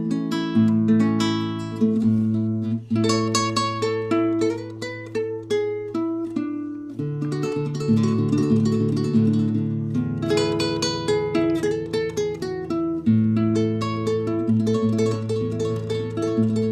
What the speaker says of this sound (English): So the kora sounds something like this.